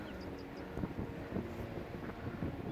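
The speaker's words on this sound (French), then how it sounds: "je vous garde pas plus avec le vent qu'il y a, ça doit pas être très agréable" Wind gusts roar across an open sandy ploughed field, buffeting the microphone in uneven rumbling bursts that rise and fall for the whole stretch.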